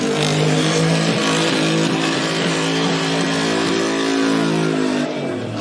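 A hopping car accelerates hard in a continuous loud engine roar, the pitch climbing and wavering for several seconds with no voices heard.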